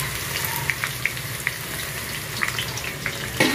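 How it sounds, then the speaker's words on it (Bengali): Onions fry in a pan, giving a steady close sizzle with light crackles and pops, and a brief stirring clatter near the end. "পেঁয়াজটা একটু ভাজা ভাজা হয়ে যাক"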